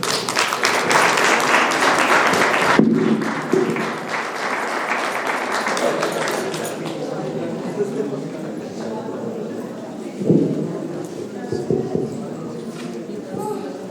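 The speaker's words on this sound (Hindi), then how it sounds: "अच्छी तरह जोरदार तालियां दीदी दीजिए" Audience at a medical seminar in Dharamshala bursts into dense, loud applause that lasts about three seconds, then fades as a speaker's amplified voice takes over the hall, with a few scattered claps later.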